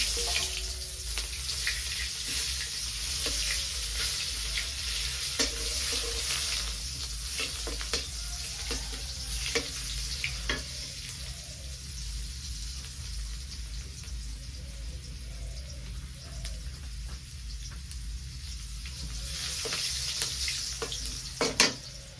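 Chopped onion sizzles in a pan over a village kitchen fire, a steady, moderately loud frying hiss with faint stirring scrapes, and no voices.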